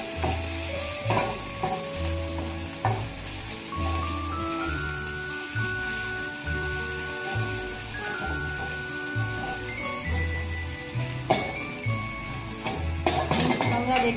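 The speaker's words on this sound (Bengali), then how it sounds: "টমেটোটা ভাজা হচ্ছে।" Tomatoes and onions fry together in a pan with a constant sizzle, while a utensil scrapes and stirs in a steady repeating rhythm, close by, with faint background music.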